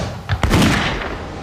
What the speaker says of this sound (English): In 1631, at the Battle of Breitenfeld, the Swedish king Gustavus Adolphus showed the full potential of volley fire